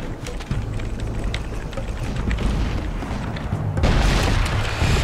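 Heavy C4 bomb blasts in the video game Crysis Warhead, a rumbling boom building through the clip with a loud, broad burst near the end over low droning game sound.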